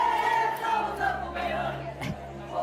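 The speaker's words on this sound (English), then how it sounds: "This is one of my favorite Bulgarian chants." Bulgarian fans chant together at a poker tournament final table in Barcelona, a loud, sustained crowd chorus with rising and falling shouts filling the room.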